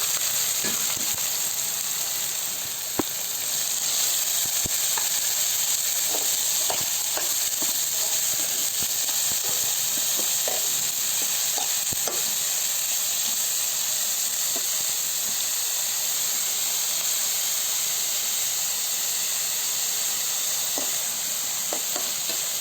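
Two chillies sizzle in hot oil for a netthallu anchovy fish curry, a steady bright frying hiss dotted with sharp pops and crackles throughout, no voices.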